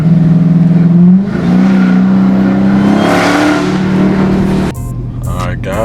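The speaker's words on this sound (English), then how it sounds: "I love driving this thing, guys. These downshifts be crazy." A 1000-horsepower Dodge Hellcat engine roars and drops through downshifts, loud sustained revving with pitch shifts, ending in a quieter whirring stretch.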